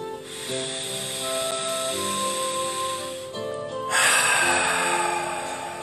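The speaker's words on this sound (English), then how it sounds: "Let's begin by taking a few deep breaths. In the nose and out the mouth." Slow, deep breaths are drawn in through the nose and let out through the mouth in a quiet setting, heard as soft, airy hisses that swell and fade, with a stronger exhale near the end.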